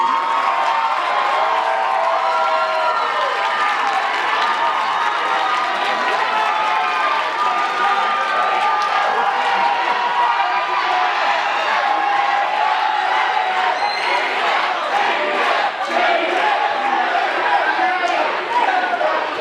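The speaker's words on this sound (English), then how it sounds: "let's get one more round of applause for all of our amazing contestants" A live audience applauds and cheers for the contestants at an interview contest, a dense, loud, sustained wash of clapping, whoops and crowd noise throughout.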